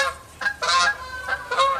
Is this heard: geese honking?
yes